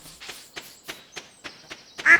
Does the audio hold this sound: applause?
no